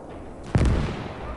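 A big artillery gun fires in the WWII strategy game Call to Arms: Gates of Hell, one heavy sudden boom over a low background rumble, followed by a brief rolling decay.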